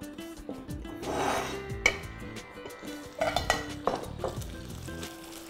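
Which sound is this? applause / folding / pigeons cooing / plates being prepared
plates being prepared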